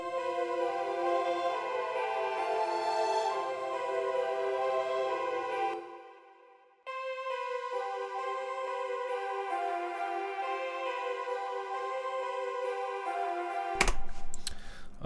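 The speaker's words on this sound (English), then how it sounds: "I have another lead that comes in, and that's in Nexus" A bright synth lead from the Nexus plugin plays sustained tonal lines in an FL Studio beat, drops briefly to silence, then resumes steadily, clean and upfront, ending in a short noisy burst.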